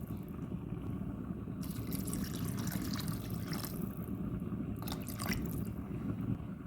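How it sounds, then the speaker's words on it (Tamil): Water runs and splashes steadily into a cooking pot for chicken soup, with brighter bursts of pouring over a constant low rumble. "இப்போ தண்ணியெல்லாம் விட்டாச்சு"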